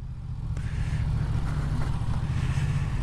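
A Yamaha MT-09 motorcycle pulls away nearby, its engine a low, rumbling drone that swells steadily over three seconds amid outdoor background noise.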